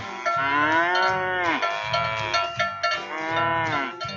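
Cattle lowing in a radio advertisement for a stockyards cattle replacement sale, three long loud moos in a row, each swelling and then dropping in pitch, close and clear with no talking over them.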